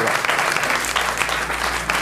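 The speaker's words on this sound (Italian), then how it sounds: "Facciamo applauso a Elvira." Dense, loud audience applause for Elvira at an Italian comedy show with a host, a steady roar of many hands clapping with a voice faintly audible underneath.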